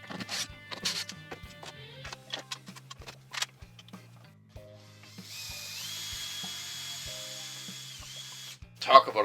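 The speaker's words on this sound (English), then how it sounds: "Talk about a dull drill bit." A drill with a dull bit grinds against plastic during 3D printed gearbox testing, first in short ticking, ratcheting bursts, then a steadier whining drone for several seconds before a final louder burst, close and moderately loud.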